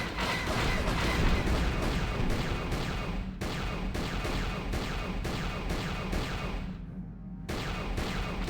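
Starship gun turrets in Knights of the Old Republic fire at Sith fighters, producing a steady rapid stream of laser blasts in regular bursts. A brief lull near the end is followed by the firing resuming.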